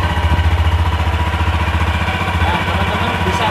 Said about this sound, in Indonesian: ini saya coba hidupkan sepeda motornya